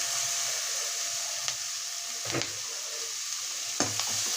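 Boiled horse gram dropped into a hot tempering of green chillies and onion gives a steady loud sizzle with a few quick stirring scrapes, no talking.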